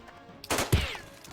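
Automatic weapon fire in the video game Jagged Alliance 2: a quiet lead-in, then a loud burst of gunfire with a sharp second crack partway through, trailing off quickly.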